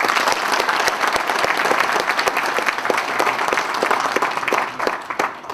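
A live audience claps steadily to welcome two Kyrgyz poets at an event in Korea, the applause dense and sustained throughout, fading slightly at the end.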